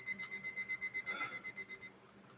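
A study timer alarm beeps in a rapid, evenly pulsed series of about a dozen bright electronic chirps, steady and moderately loud, then stops abruptly with no talking.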